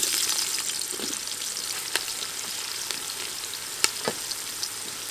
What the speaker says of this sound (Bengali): বেরেস্তা ভাজার সময় পেঁয়াজ কুচি দেওয়ার পর রেখে দিলে হবে না, ছান্তা দিয়ে সব সময় এভাবে নাড়তে থাকবো